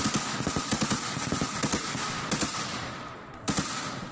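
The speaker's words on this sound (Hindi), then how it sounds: "पूरे इलाके में अब गोलियों की आवाज सुनाई दे रही है।" Gunfire in fighting between Russian and Ukrainian forces: rapid bursts of sharp cracks in quick rhythmic runs, a lull, then a final short pair of reports, fairly loud over a noisy outdoor background.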